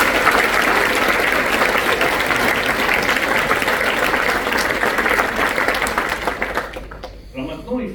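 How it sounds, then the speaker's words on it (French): A large audience gives sustained loud applause for acrobatic skiing World Cup winners at an athletes' ceremony, thick continuous clapping that fades out near the end as a voice returns. "on peut les applaudir aussi."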